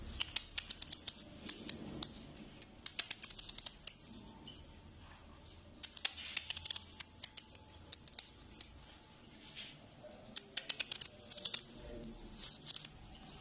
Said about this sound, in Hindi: और प्याज जो है इसको भी इस तरह काट लेना है।